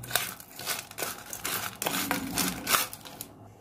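Crunchy Lay's and Kurkure chips being mixed by hand for chaat, close crinkling and crackling in quick irregular bursts for a few seconds.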